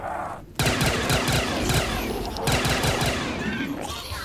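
Sustained rapid machine gun fire in a zombies shooter game on a custom map, loud and continuous with dense rattling bursts, briefly pausing near the start and again midway before resuming.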